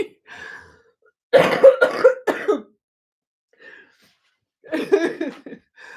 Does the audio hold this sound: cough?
yes